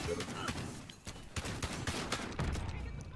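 Pistol shots fired from the hip in a video game crack out in a quick irregular string over a busy firefight, with more gunfire around them and a voice talking underneath.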